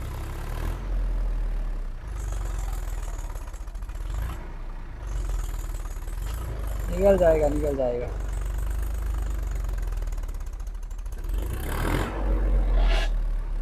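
Massey tractor engine labouring at full power during a power test against other Massey tractors, a steady low rumble throughout with a brief rising strain midway and a louder surge near the end; someone talks over it.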